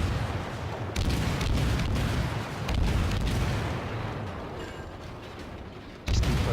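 Naval guns on the Fletcher destroyer fire steadily at an enemy ship in a naval combat video game, a dense continuous barrage of low booms with a sharp louder blast near the end, no talking.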